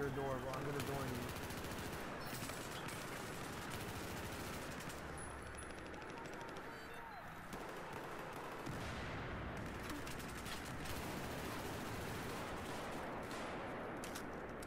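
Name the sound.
gunfire in a shooter video game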